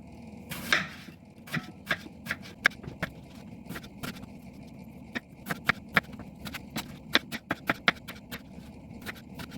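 Quick, crisp knife chops slicing an apple into strips on a board, roughly a dozen sharp taps in an uneven rhythm, close and fairly quiet with a light kitchen murmur beneath.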